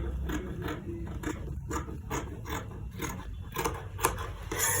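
Scissors trim organza fabric along a top's neckline, making a quick series of close, crisp snipping and rustling cuts in an uneven rhythm.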